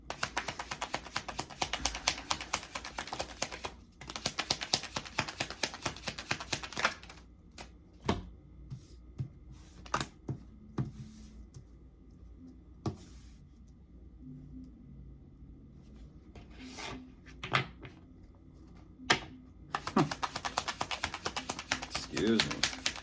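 Tarot cards are taken out and handled, giving soft shuffling, tapping and clicking sounds in bursts with quieter gaps, close to the microphone, while a person speaks at times.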